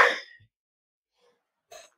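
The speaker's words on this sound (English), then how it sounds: "Sneeze. I'm allergic to this cat" A single sharp sneeze bursts out up close, brief and loud, followed by silence and a faint breath or small vocal sound shortly after.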